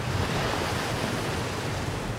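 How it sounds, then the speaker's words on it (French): Strong sea swell and waves off the Île d'Oléron, a dense, continuous roar of surf and rushing water mixed with wind noise, loud and close with no voices. "la houle est de plus en plus forte"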